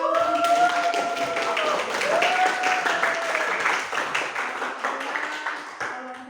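A class of students applauds together during an Indonesian language lesson, a dense, steady patter of clapping that lasts about six seconds, with voices audible underneath it.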